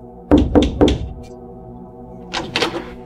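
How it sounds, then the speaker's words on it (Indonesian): Three firm knocks thud on a wooden door, close and evenly spaced, then after a pause a quicker, fainter pair of raps follows over a low steady hum. "aku mendengar ketukan di pintu"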